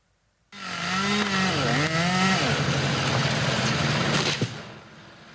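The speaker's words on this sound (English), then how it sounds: "Anchorage Hillside residents may notice the sound of chainsaws this spring." A chainsaw cuts trees along utility easements in the Anchorage Hillside in spring, starting abruptly and running loud and close with a rising, wavering engine whine that holds steady before cutting off.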